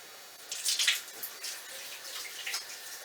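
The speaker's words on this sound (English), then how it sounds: "let me wash my hands" Hands being washed under running tap water at a kitchen sink, a soft steady stream with splashing that rises and falls as the hands move through it, close and alone.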